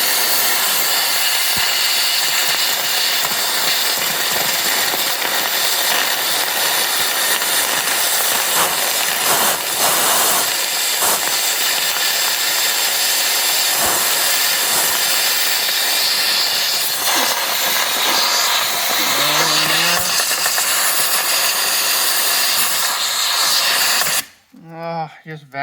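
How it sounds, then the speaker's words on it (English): Shop vacuum sucking wet leaves out of a rust-prone spot on a 2009 Toyota Tacoma, a loud continuous roaring hiss held steady for over twenty seconds before cutting off abruptly at the end. "Just vacuum."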